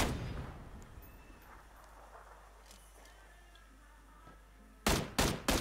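Gunfire in PUBG (PlayerUnknown's Battlegrounds): after a quiet stretch of faint ambience, three sharp, loud shots ring out in quick succession near the end.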